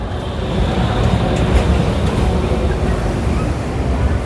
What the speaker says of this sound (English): You can hear that squeaky sound of the engine.